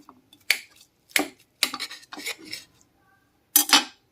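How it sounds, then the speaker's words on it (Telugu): A knife chopping a steamed egg into small pieces on a plate, five or six sharp clinking cuts in uneven rhythm, close and clear with no talk. "సో నేను ఇలాగా కొంచెం చిన్న చిన్న పీసెస్ కింద అయితే కట్ చేసుకుంటున్నాను."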